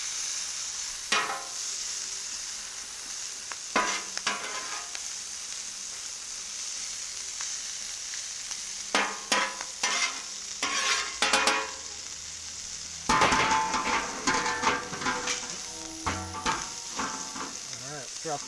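Rice and sausage frying on a Cuisinart 360 XL griddle, a steady hiss broken by repeated scraping and clattering of a spatula pushing food across the hot surface.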